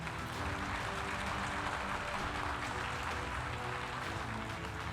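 Steady, dense audience applause fills the hall at a political address, a continuous wash of clapping from a large crowd with no voices over it.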